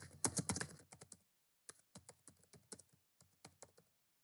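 Typing on a computer keyboard while entering vendor details in a web portal, a burst of rapid keystrokes followed by a brief pause and then irregular lighter taps, close and quiet.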